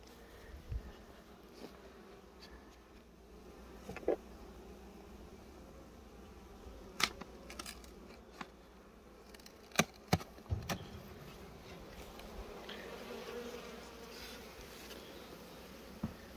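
Honeybees bringing in pollen at a beehive in a damaged apiary, a soft steady buzz holding throughout, broken by scattered sharp clicks and knocks, with no talking.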